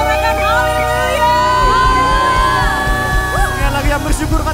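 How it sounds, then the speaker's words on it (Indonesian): Church congregation shouting hallelujah together, a loud, dense crowd of overlapping voices and whoops with music carrying underneath. "Sorakan haleluya"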